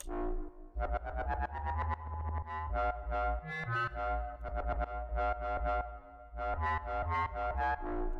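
A buzzy, distorted synth lead plays a bright, choppy melody over a steady low bass, with short rhythmic gaps between phrases.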